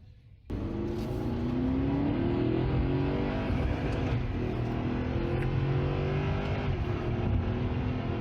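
A 2013 Audi R8 with a 4.2 V8 and S-Tronic gearbox holds a loud, steady engine drone that rises gradually in pitch, as if revving, close by and without talk.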